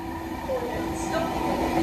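Steady rail rumble and hiss of an Avanti West Coast Alstom Pendolino Class 390 electric train passing through Macclesfield station, a continuous close roar with faint squeals over a brief stretch.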